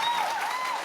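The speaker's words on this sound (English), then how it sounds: "Spontaneous applause is wonderful." Spontaneous audience applause at a political event at Holyrood, a steady dense clatter of many hands held at even loudness throughout, with a faint melodic tone running above it.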